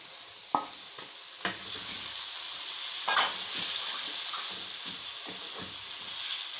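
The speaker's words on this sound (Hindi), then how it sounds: "और अब जो है हम इसमें गोश्त ऐड करेंगे, आधा किलो गोश्त ऐड करेंगे।" Half a kilo of meat goes into a pot of spinach and turnip, giving a steady frying sizzle broken by a few sharp clatters of stirring and scraping.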